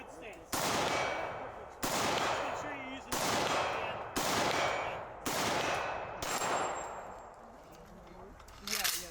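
Gunfire at an outdoor shooting range, with five loud, evenly spaced shots roughly a second apart, each ringing out with a long echoing decay, and a faint voice under the reports.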